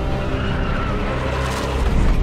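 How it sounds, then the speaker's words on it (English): A Porsche 911 GT2 RS sports car drives past at speed with a loud, steady engine roar and tyre noise, close and continuous, swelling slightly toward the end with no talk over it. "This is the Porsche 911 GT2 RS."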